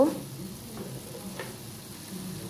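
Bottle gourd frying in a pan gives a soft, steady sizzle with a few scraping stirs of a spatula. The sound is close and moderate, with nobody speaking.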